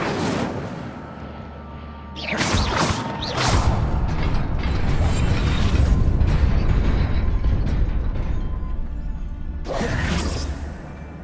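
Hogwarts Legacy video game Incendio fire spell, a rushing whoosh and crackling burst followed by a sustained rumbling roar, with another sharp whooshing cast near the end; no talk.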